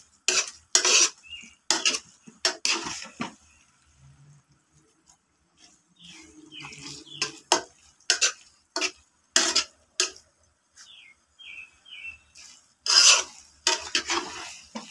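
Pancit sotanghon with lots of ingredients is stirred in a pan, with a scatter of sharp utensil scrapes and clinks in uneven bursts, some pauses between them, close and fairly loud.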